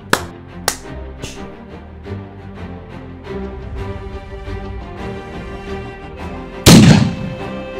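Outdoor shotguns fire at game birds on a pheasant shoot: sharp, loud reports ring out at intervals, several early in the sequence and a heavy, booming shot near the end, with faint background sound between them.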